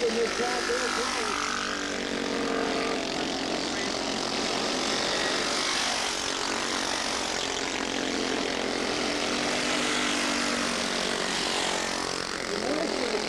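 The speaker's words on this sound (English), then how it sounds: "The noise is starting to come up from this plane" A propeller plane passes overhead near a go-kart track, giving a loud, sustained engine drone with a slowly shifting pitch that fills the whole stretch, with voices underneath.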